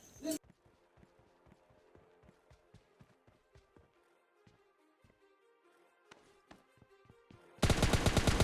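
PUBG Mobile Lite gunfire while rushing enemies: a steady series of sharp, evenly spaced game shots in quick bursts, ending in a sudden loud wash of noise.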